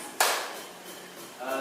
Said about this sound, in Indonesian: Yang berisi angka 1 tepuk tangan.